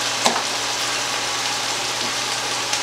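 Ginger chicken stirred in a frying pan, a steady close sizzle with occasional soft scrapes and clinks of the utensil, no talk.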